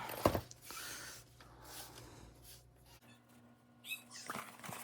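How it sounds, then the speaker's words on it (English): A cat makes brief vocal sounds in a quiet sewing workroom, heard close amid scattered handling noises and soft rustles, with a sharp knock near the start. "we're gonna squirt the cat, get her out of here"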